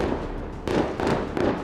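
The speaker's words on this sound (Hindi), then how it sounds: "रात के वक्त अचानक ही तेज धमाके शुरू होते हैं, जो रुकने का नाम ही नहीं ले रहे हैं" Loud explosions go off at night during a bombardment in Gaza, three heavy booming blasts in quick succession over a dull background roar.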